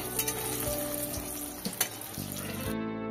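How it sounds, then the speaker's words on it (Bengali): Biuli dal bori, lentil dumplings, frying in hot oil in a pan, giving a steady close sizzle with occasional crackles and a brief clatter, with no talk over it. "এখন এই যে বড়িগুলো ভেজে নিতে হবে।"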